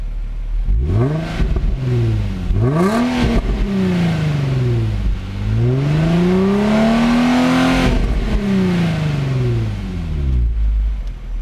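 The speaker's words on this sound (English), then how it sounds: "just rev it a little bit" A 2005 Infiniti G35 engine revs repeatedly with no load, pitch climbing and falling with each push, ending in one long, drawn-out rev, loud and close.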